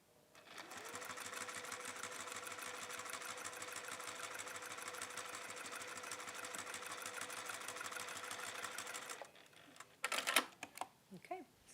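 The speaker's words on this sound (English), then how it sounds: "we are just going to top stitch that down" A sewing machine top stitches a pocket on a jewellery clasp purse project, running in one long steady whir for about nine seconds before stopping, followed by brief handling clicks.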